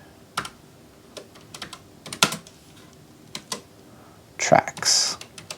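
A folder name is typed on a computer keyboard in scattered, clicky keystrokes, close and distinct, with a quick flurry near the end, while a voice talks over them.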